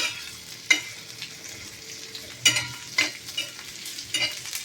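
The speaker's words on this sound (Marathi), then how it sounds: "ते सर्व पदार्थ मी ह्या पद्धतीने आता भाजून घेणार आहे बरं का." Onion and other ingredients roasting in a pan for a spicy Maharashtrian dal, a steady close sizzle broken by several sharp scraping stirs of the spoon against the pan.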